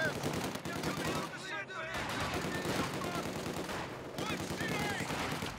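A heavy machine gun in a Company of Heroes 2 multiplayer battle rattles in sustained bursts amid dense battlefield noise, with other gunfire and clutter layered throughout and a short gap midway.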